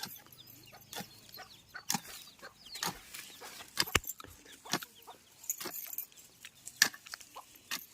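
Hens and their young chicks cluck and peep close by in a home yard, a busy run of short, uneven calls scattered across the whole stretch with scratchy rustling between them.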